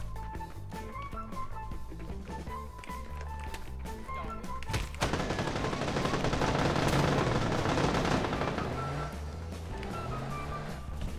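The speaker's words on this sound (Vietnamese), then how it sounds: "Súng mạnh đấy." Bursts of rapid gunfire in PUBG, loud and dense for several seconds amid vehicle rumble and game sounds.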